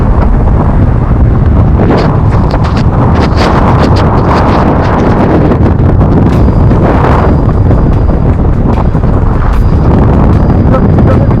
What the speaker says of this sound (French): Bourrasque de vent.